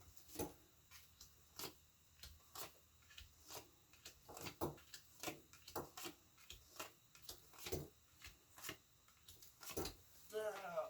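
Tarot cards are shuffled on a table in quick bursts of soft riffling and tapping, a rhythmic series of short crisp rustles, close and fairly quiet.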